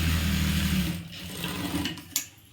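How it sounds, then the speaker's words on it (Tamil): A sewing machine runs steadily as it stitches a second line over a seam joining the bodice and skirt of an umbrella churidhar, its hum slowing and stopping near the end with a brief click. "இப்போ வந்து இந்த தையல் மேலே இன்னொரு தையல் போட்டுக்கலாம்."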